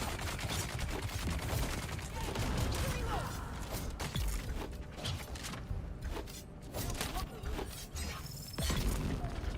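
Dense, continuous rapid gunfire and mechanical clatter from the video game Dune: Awakening fill the whole stretch, loud and busy throughout.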